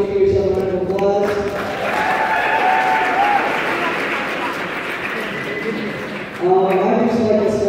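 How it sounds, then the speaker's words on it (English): A comedy benefit audience applauds itself, broad clapping that swells between talk, with a voice speaking at the start and again at the end over the fading applause. "Want to give yourself a round of applause."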